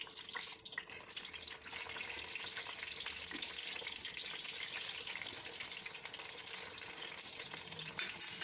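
A chicken burger patty cooks in coconut oil over low heat, giving a steady, even sizzle and crackle throughout with a constant hiss and no voices.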